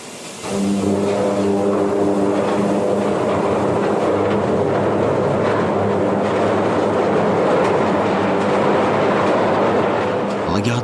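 Heavy railroad wagons rolling and grinding onward after a tornado strikes a train, a dense sustained rumble with a steady low hum and metallic rattling that holds loud for about ten seconds before easing at the end.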